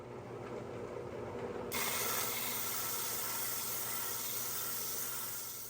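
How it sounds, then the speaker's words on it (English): A flat lap grinds a Calandria agate with a steady, loud, hissing rasp that holds evenly over a motor hum, the abrasive noise swelling partway in and continuing unbroken. "Let me get to start on the flat lap."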